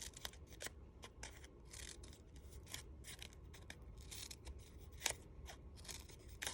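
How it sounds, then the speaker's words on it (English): Scissors snip through paper flower petals in quiet, close cuts, a run of quick crisp snips with brief pauses and light rustling of paper between them. "Take your scissors and cut into the center."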